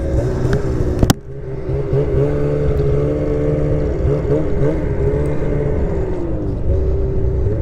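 A BRP Lynx Xterrain 900R snowmobile engine runs close by, holding a loud, steady rumbling idle with small rises and dips in pitch after a sharp click at the start.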